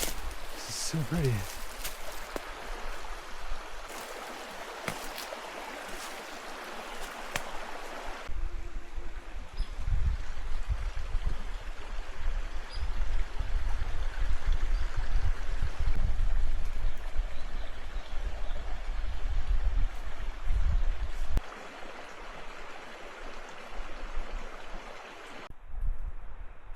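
A forest creek runs beside a bikepacking trail campsite, giving a steady low burble and rush of flowing water. The sound comes from nearby and continues for the whole stretch, with occasional handling noises on top.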